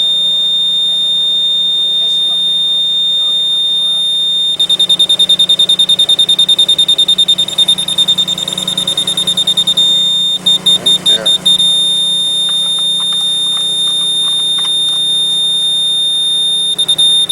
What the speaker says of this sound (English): Until it starts beeping. You hear it beeping?